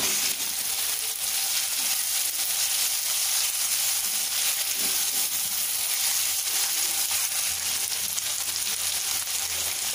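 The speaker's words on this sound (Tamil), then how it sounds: "சேர்த்து நல்லா வதக்கிப்போம்." Tomato and onion sautéing in a pan for mushroom gravy, giving a steady, close frying sizzle that runs unbroken throughout with no talking.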